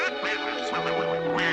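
A cartoon duck gives a quick run of several raspy, nasal quacks in close succession, loud and clear with no talking.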